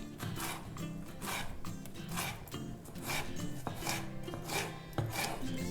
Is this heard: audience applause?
no